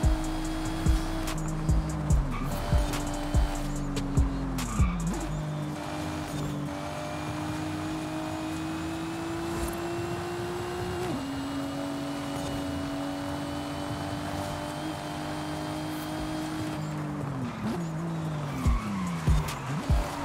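A Nissan Skyline R32 GTR in Forza Horizon 5 races through a street corner, its engine holding a steady loud drone while it falls and climbs with gear changes, broken by repeated bursts of tire squeal. No one speaks.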